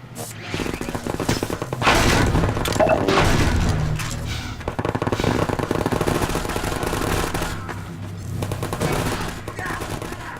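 Automated sentry turrets firing at aliens in Half-Life 2: Episode Two, a loud continuous rattle of rapid gunfire with heavy booms layered through it, alone without talk.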